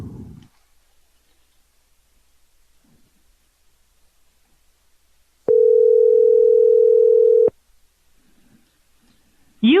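A telephone dial tone while calling someone sounds as a single steady, loud electronic hum lasting about two seconds, bracketed by faint rustles and clicks, with a brief voice fragment at the start and end.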